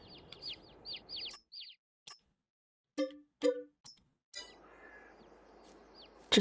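Chickens in the Farming Simulator 22 video game cluck and chirp in short bursts, some sharp near calls standing out against stretches of silence and a soft background bed.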